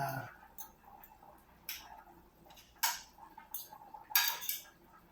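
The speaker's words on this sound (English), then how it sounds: "dicing vegetables basically, because I'm doing the carrot" A knife dicing carrots on a cutting board while vegetables are prepped for cheeseburger soup: quiet, scattered taps and clicks at an uneven pace, faint against a still room.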